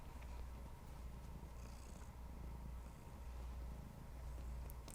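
A cat purrs softly and continuously at close range, a low, even rumbling drone with faint rhythmic pulses and no voices over it.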